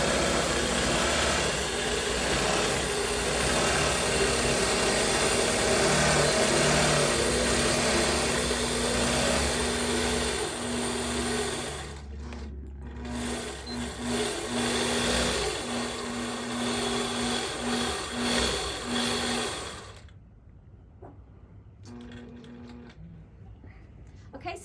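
Longarm quilting machine stitching a Shannon Fabric Cuddle blanket, a steady loud mechanical whir and hum for about twenty seconds with a brief dip midway, then stopping, leaving quiet handling sounds.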